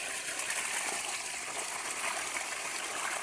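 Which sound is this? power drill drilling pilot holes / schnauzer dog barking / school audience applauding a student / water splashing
water splashing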